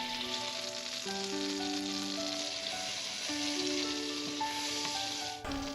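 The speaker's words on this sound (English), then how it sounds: "add a little bit of olive oil, and also add a tablespoon of butter" Olive oil and butter sizzle in a skillet, giving a steady soft hiss heard under background music throughout.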